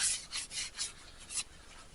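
Sand sealer being rubbed onto a walnut workpiece spinning on a wood lathe, a soft rasping scrape that swells and fades in repeated strokes, close and fairly quiet with no talking.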